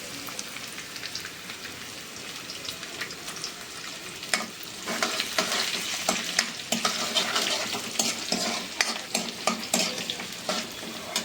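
Ginger, garlic and green chillies fry and get stirred in a hot pan for Manchurian, a steady sizzle with scraping stir strokes growing louder and busier toward the end, no voices.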